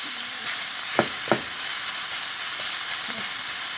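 Ground pork stewing in a pan for Lao spring rolls gives a steady, close sizzle and hiss, broken by a couple of brief clinks around the middle and a faint tap near the end.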